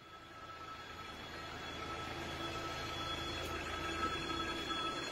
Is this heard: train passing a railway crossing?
yes